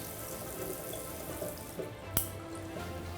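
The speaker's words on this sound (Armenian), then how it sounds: "լվացարան, զուգարան, այստեղ ունենք տաք ու սառը ջրի հնարավորություն" Water running from a sink tap in a bathroom, a soft continuous trickle and splash heard close and alone, with a brief sharp knock partway through.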